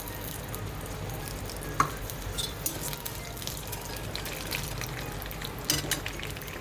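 Toor dal sizzles in hot coconut oil for a Konkani GSB sambar, a steady close crackling hiss with occasional small pops and no speech.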